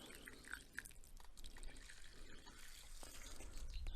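Water poured over 2-3 mm carp fishing pellets, a soft trickling and dribbling of liquid filling a container, steady and close with small drips, no talking.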